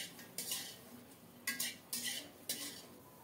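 Chili, garlic and sliced beans stirred in a frying pan, heard as four sharp metallic scrapes of a utensil against the pan over a faint background, with no talking.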